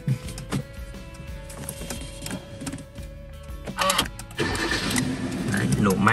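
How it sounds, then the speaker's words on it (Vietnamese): A Kia Cerato 1.6 automatic sedan engine cranks and catches, rising into a steady idle hum that grows louder toward the end, with a voice speaking over it. "Nổ máy bật điều hòa cho quý bạn cùng xem nhé."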